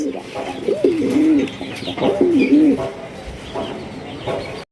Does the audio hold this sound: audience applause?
no